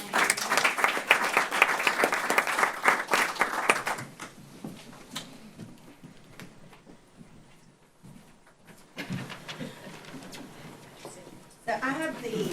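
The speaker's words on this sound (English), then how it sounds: "Round of applause for" Audience applause at a school board meeting, a dense burst of clapping for about four seconds that then thins out into scattered claps and murmuring, with voices near the end.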